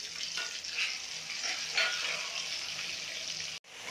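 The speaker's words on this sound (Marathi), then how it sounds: "ठेचा छान तेलावर परतून घ्यायचा।" Crushed garlic and chilli thecha frying in oil, a steady hiss and crackle with light stirring, close and fairly quiet, cut off abruptly near the end, with no talking.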